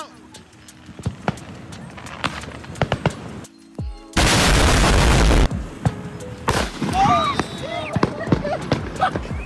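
Street fireworks in a neighborhood battle: sharp popping bangs repeat, then a loud blast bursts and roars for about a second, with shouting voices and crackling pops around it.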